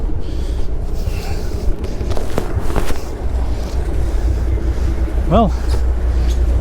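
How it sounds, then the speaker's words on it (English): A boat engine, one of the vessel's engines started for the first time this season, runs with a steady low rumble heard outdoors near the exhaust, with wind noise and a brief spoken word over it. "as you can see, we have one engine running."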